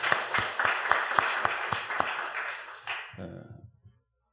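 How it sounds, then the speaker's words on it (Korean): A church congregation at a Sunday evening service claps together in a burst of applause that thins out and fades to silence within about four seconds. "다 같이 박수 한번 더 하십시오."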